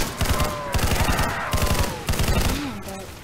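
Rapid gunfire from a powerful gun in a hard zombie video game, loud bursts of shots repeating through the clip with a brief tonal effect near the end.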